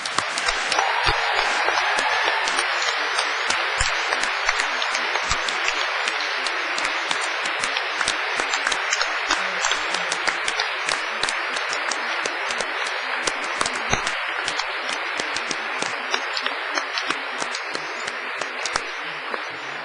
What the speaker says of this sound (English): giving them an enthusiastic round of applause